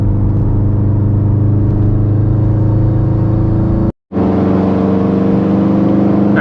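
A 400whp Subaru STI with a blue turbo pulls hard, its loud engine roar heard close from inside the car, droning steadily with a brief cut in the sound partway through.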